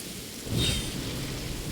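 Steady rain falls in a courtyard in the Genshin Impact video game, a continuous even wash with a soft swell near the middle and no voices.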